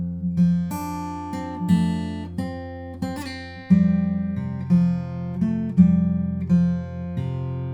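Fingerpicked guitar plays a song, with plucked notes ringing over a repeating low bass pattern in an even rhythm, clear and close with no voice.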